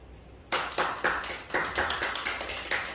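Roughly a dozen sharp claps from an audience at a speech talk arrive in an uneven rhythm after a brief quiet moment, close and fairly faint, with no talking over them.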